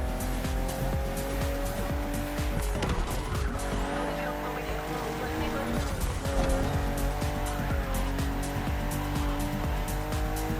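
A BMW M CSL-style race car in The Crew Motorfest, its engine roaring loudly and steadily with repeated tire squeals and skids, accompanied by continuous game music.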